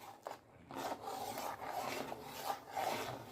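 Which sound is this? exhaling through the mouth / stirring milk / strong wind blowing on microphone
stirring milk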